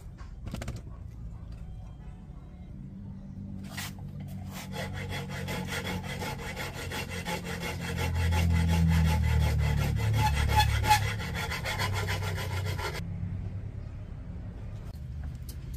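Hand filing of bolt holes in a handmade steel mount for a straight exhaust pipe, a steady scraping rasp of file on metal that grows louder midway and stops near the end, with no talking.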